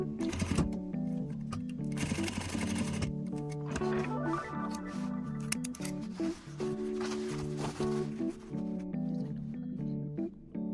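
A sewing machine stitches a folded pillow corner with a steady whirring run, broken by brief pauses and shifts in pace.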